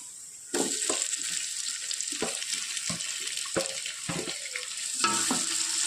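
Onions and tomato sizzle steadily in a pan for chicken biryani. A constant frying hiss runs throughout, broken by repeated scraping, clinking stirs against the pan.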